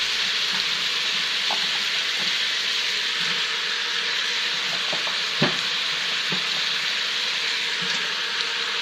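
Onions, celery and potatoes sautéing in oil for split pea soup, a soft continuous sizzle with occasional spoon clicks and one sharper knock, fairly quiet and steady, no speech.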